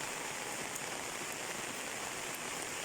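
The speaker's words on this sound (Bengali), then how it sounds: "দেখেন প্রচুর বৃষ্টি" Heavy rain pours steadily through a betel nut (areca palm) garden, a dense, even hiss of drops on leaves and ground close by, with no voices.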